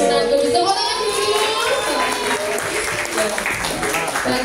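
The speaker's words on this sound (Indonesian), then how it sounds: "Tepuk tangan dulu." A school crowd claps together at a focus group session at MAN 1 Kudus, a loud, dense burst of applause with voices and chatter mixed in throughout.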